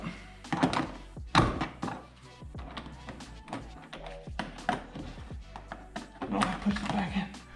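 Plastic push pins on the undercover of a 2016 Subaru WRX STI handled under the car, giving repeated sharp taps and dull thunks with uneven gaps, close by.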